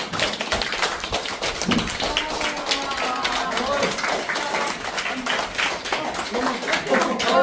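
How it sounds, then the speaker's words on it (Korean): Steady hand clapping in a brisk rhythm mixed with a crowd's voices and background music, loud and lively. "박수를 같이 쳐줘야지."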